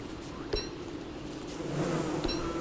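A swarm of bees in the game Don't Starve Together drones with a steady, close buzzing hum that swells louder toward the end, broken by a couple of brief sharp game sound effects.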